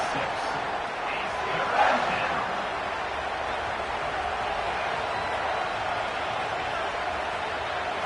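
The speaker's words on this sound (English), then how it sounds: "Death Valley is rocking, trying to help the Tigers on third down." A stadium crowd roars steadily in a college football video game as Clemson's Death Valley rocks on third down, a dense, continuous cheer with a brief swell near the start.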